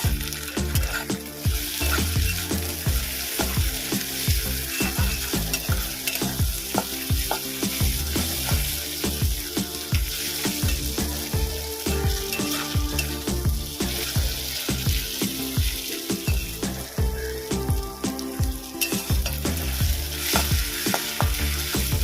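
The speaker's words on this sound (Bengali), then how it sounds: "দেব আদা রসুনের পেস্ট কাঁচা গন্ধ না যাওয়া পর্যন্ত এটা ভালো করে মিশিয়ে নেব" Ginger garlic paste frying with onions in a hot pan for Bengali bhaja masala chicken, a loud steady sizzle with frequent scraping stirs throughout, close and with no talk.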